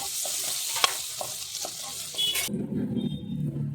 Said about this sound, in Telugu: ఈ జీలకర్ర అనేది ఆయిల్లో మంచిగా వేగిన తర్వాత ఇందులో కరివేపాకు వేసి మంచిగా ఆయిల్లో అయితే గోలనివ్వాలి